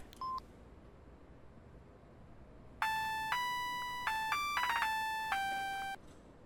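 In a video game, a short beep sounds, then a sequence of clear electronic telephone dial tones plays in quick succession, followed by a brief pause against low background hiss.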